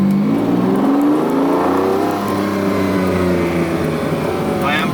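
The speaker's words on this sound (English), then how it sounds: "This is just like, you're in a Lamborghini!" Lamborghini Diablo V12 engine revving loudly from inside the car, a steady throaty drone that rises and falls in pitch across the whole stretch, with harmonics sweeping upward as it accelerates.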